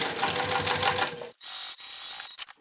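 A sewing machine stitches bag lining pieces in a fast, even mechanical chatter for about a second, then stops, leaving faint clicks and handling noises close by.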